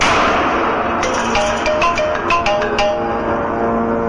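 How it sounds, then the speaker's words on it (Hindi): A phone ringtone rings steadily in a dramatic film scene, with repeating musical tones that are loud and clear and carry alone without speech. "आप फोन क्यों नहीं उठा रहे?"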